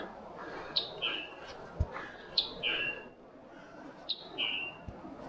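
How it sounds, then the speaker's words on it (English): Bird chirps repeat in short high paired calls, three clear bursts spaced about 1.5 seconds apart against quiet outdoor ambience on a wooded trail in Fall Creek Falls State Park, Tennessee. "Hear the bird?"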